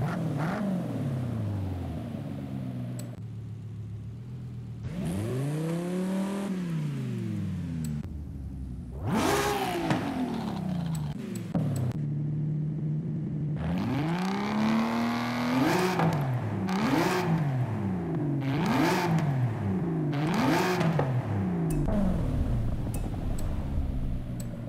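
A car engine in the video game Forza Horizon 5 revs repeatedly, rising and falling in pitch in sharp bursts, loud and close, with no talking.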